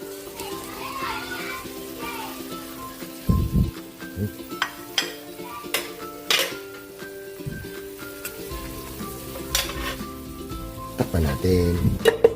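Chopped chayote goes into a hot pan and sizzles steadily, with clattering and stirring knocks over the frying hiss while a voice talks and children are heard in the background.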